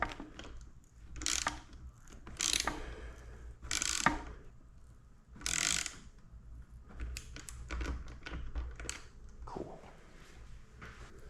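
Quiet mechanical clicks and ratcheting come in short bursts as bolts are tightened by hand on an Aprilia RS660 motorcycle during a track build, close up with no talking.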